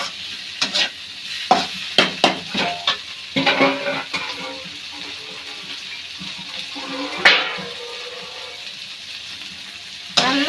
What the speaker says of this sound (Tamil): நல்லா வதக்கணும் டொமேட்டோ போட்டு.